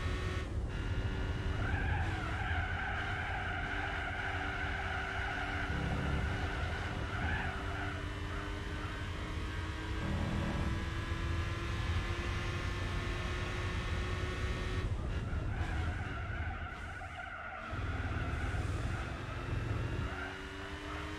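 Toyota Supra racing in Gran Turismo 4, a steady high engine whine with shifting harmonic tones and sustained tire skid noise, loud and continuous throughout with brief dips in pitch.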